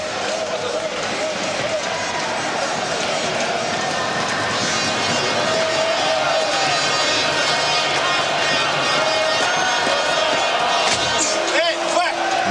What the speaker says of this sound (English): the Latvian fans really have something to cheer about